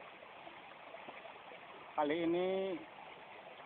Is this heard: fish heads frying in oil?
no